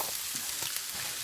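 Stir-fry vegetables sizzle loudly in an overfilled non-stick pan, a steady close hiss with faint stirring scrapes and no talking over it.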